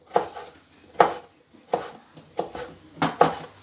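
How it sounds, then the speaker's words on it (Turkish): A knife dices tomatoes into small cubes on a cutting board, about seven crisp chops in an uneven rhythm, some coming in quick pairs, close and clear with no talking. "küp küp doğrayacağım ben"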